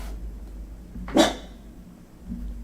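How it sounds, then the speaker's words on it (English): A dog gives one sharp, clear bark from a short distance indoors, followed by quiet room hum and a faint softer sound. "Oh, Pupper's barking."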